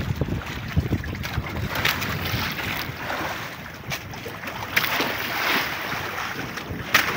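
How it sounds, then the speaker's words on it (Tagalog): Strong wind at sea on a fishing boat makes a loud, constant broadband roar with gusting swells and buffeting against the microphone, mixed with water rush. "dahil malakas po ang hangin muna ngayon"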